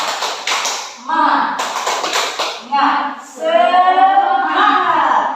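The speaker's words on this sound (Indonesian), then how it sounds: "Kita tepuk semangat dulu, biar anak-anak semangat, jadi semangat lagi." A primary school class doing the rhythmic 'tepuk semangat' clap, short patterned bursts of claps alternating with children's voices chanting along, close and lively in a classroom.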